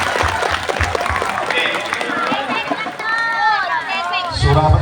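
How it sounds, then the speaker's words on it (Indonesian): A crowd at a Maulid Nabi celebration at an Islamic boarding school claps amid lively chatter and voices, loud and close throughout, with talk over the noise. "tepuk tangan yang mulia"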